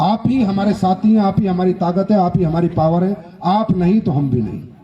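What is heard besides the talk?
No everyday noises stand out.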